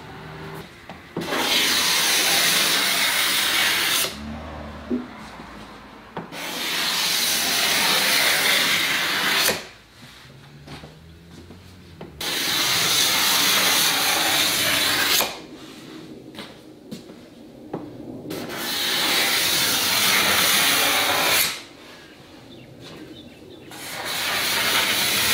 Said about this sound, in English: If I could get shavings like this off a scraper every single time, I'd be a very happy man.